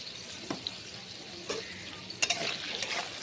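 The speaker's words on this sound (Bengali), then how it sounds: "এবার এটা আমি এই আলুগুলো খুব সুন্দর করে লাল লাল ভেজে নেব" Potato pieces frying in hot oil, a soft steady sizzle broken by a few stirring clinks and scrapes of a utensil in the pan, rising slightly toward the end.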